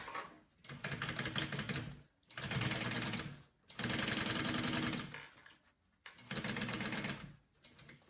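A sewing machine basting the top edge of a zipper at an eighth-inch seam allowance for a bag, four close runs of quick rhythmic stitching separated by short gaps; no talk.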